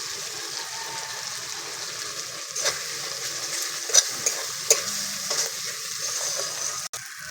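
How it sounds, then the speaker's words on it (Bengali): Ground cumin, coriander and dried chili masala paste frying in oil for mutton curry, a steady soft sizzle close by with a few louder stirring scrapes and clicks, fairly even throughout. "মশলাটা ভালো করে কষিয়ে নিয়েছি, তেল ছেড়ে এসছে।"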